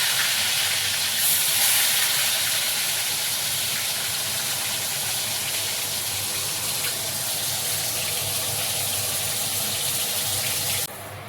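Pointed gourd (potol) fries in hot oil in a wok, producing a loud, continuous, close hissing sizzle that drops slightly in level just before the end, with no voices.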